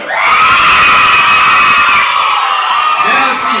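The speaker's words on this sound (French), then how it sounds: "Les femmes de la 6e année, faites du bruit." A school audience of students cheers, whoops and shouts at a quiz competition final, a loud sustained crowd roar with high-pitched screams lasting throughout.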